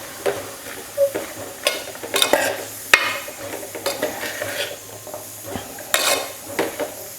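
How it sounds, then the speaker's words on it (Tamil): Chayote sautés with chili powder in a pan for chow chow sambar. A soft, steady sizzle runs under repeated scraping stirs and sharp clinks of a spoon against the pan, close up, with no voices. "மிளகாய் பொடி சேர்த்ததுக்கப்புறம் ஒரு நிமிஷம் நல்லா வதங்கட்டும்"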